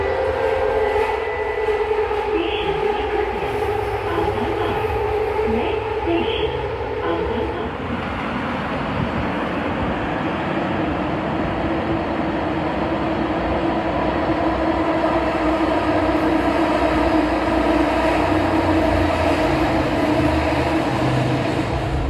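A train rumbles steadily along the rails with a continuous roar and rhythmic clatter, loud and close throughout.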